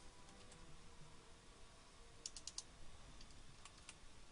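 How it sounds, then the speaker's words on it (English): Quick bursts of keyboard typing at a computer, entering a search while playing the online game Champions Online, with a few sharper clustered keystrokes over a soft background hiss, no voices. "so I'm going to type in pistol."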